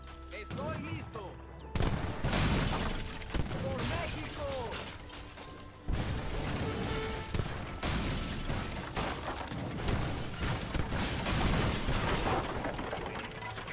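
Cannon artillery in an Age of Empires 3 Definitive Edition historical battle: repeated booming shots and crashes over a dense, noisy battle din, loud and continuous, with a voice speaking at times.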